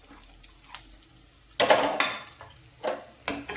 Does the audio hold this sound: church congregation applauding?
no